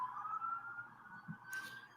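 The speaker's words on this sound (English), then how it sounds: "sorry for the sirens, New Jersey" A siren wails outside in New Jersey, its steady tone holding under a faint room background, distant and moderately loud with a brief burst of noise near the end.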